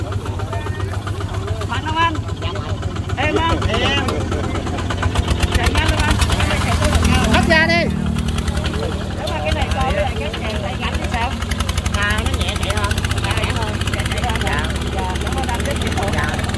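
A Kubota tractor engine running in a rice field in Soc Trang, a steady, loud, close chugging drone with a rapid rhythmic beat, while people talk over it.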